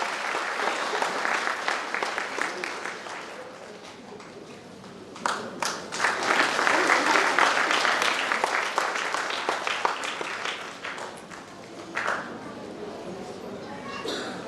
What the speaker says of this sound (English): Can we please hear a very big round of applause for our chief guest, Ms. Karishma Salah.